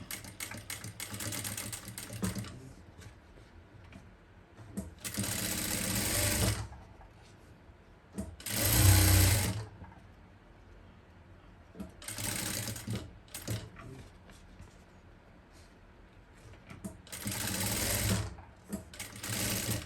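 A sewing machine stitches fabric in several separate runs of rapid, steady whirring, close and fairly loud, with short quiet pauses between the bursts.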